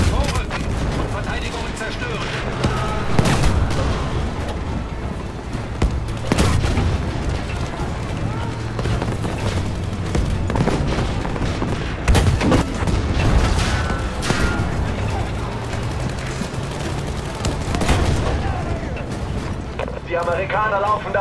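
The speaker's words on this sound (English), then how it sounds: "You just ride this tank and shoot everything." Tank cannon fire and gunfire in Battlefield V, with repeated heavy booms and crackling shots over a rumbling battle din, and someone talking over much of the action.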